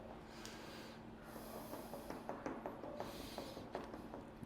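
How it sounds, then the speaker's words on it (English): A dog sniffing at a morel mushroom gives quick, close, quiet snuffles in short bursts, soft rhythmic intakes of air with no talk. "I want him to put his nose in there and just sniff."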